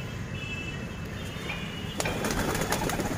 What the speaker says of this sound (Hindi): ये एक खाली बड़ा कबूतर है